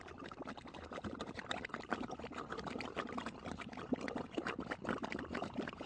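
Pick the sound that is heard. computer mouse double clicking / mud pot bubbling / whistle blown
mud pot bubbling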